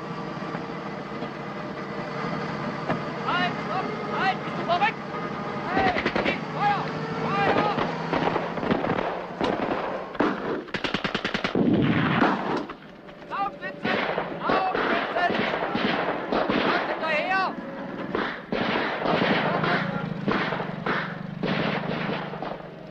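Gunfire in a Russian war film, bursts of shots and bangs over a rumbling vehicle, loud and sustained, with shouting voices mixed in throughout.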